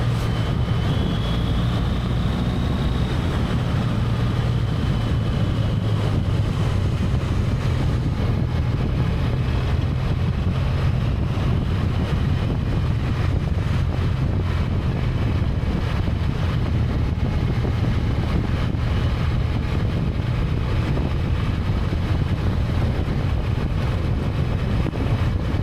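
A 2014 motorcycle pulls away in sixth gear, its low steady engine drone blending with heavy continuous wind rush across the microphone throughout.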